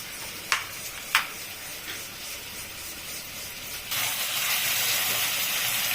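A pressure cooker cooking chickpea dal with jackfruit lets out a loud continuous steam hiss that starts abruptly partway through and holds steady, preceded by a couple of sharp clinks and a faint background hiss.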